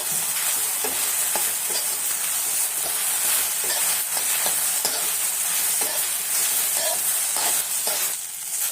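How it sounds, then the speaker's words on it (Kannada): Sliced okra fries with salt in a pan, a dense continuous hiss and crackle up close, with occasional stirring clicks and no voices. "ಈಗ ಸ್ವಲ್ಪ ಉಪ್ಪು ಹಾಕ್ತಾ ಇದ್ದೀನಿ ಮತ್ತು ಚೆನ್ನಾಗಿ ಫ್ರೈ ಮಾಡ್ಕೊಳ್ತೀನಿ"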